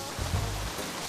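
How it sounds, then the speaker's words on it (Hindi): Heavy rain pours down steadily, a dense, continuous hiss filling the scene with a low rumble beneath it. "यहाँ इतनी बरसात हो रही है"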